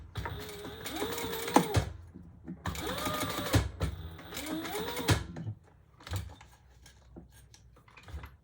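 A sewing machine stitches rows on a fabric pouch in three bursts of rapid mechanical whirring and chattering, each ending in a clunk, followed by quieter handling noises and short pauses.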